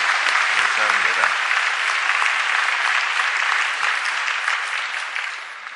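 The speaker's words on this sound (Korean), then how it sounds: "저희들이 뜨거운 박수로 환영하겠습니다." A church congregation breaks into loud, sustained applause, dense clapping from many people filling the room and tapering off slightly toward the end.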